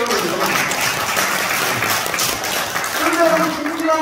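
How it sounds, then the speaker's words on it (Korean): Audience at a Korean civic unification rally gives a burst of clapping, a dense steady patter of many hands throughout with some crowd noise mixed in. "박수 한번 쳐주세요."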